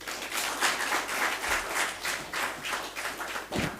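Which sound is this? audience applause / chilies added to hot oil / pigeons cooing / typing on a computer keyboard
audience applause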